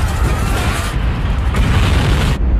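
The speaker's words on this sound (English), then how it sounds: "A huge explosion rocks the British Petroleum oil refinery in Texas City." A huge explosion at the BP oil refinery in Texas City gives a loud, sustained roaring rumble that fills the whole clip, then cuts off abruptly near the end.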